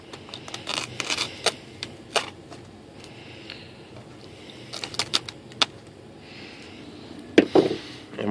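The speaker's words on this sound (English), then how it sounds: "I'm going to untape this." Tape peeled off a small foam model airplane, an E-flite UMX Aero Commander, with short crackly rips and taps scattered over several seconds, close and fairly quiet.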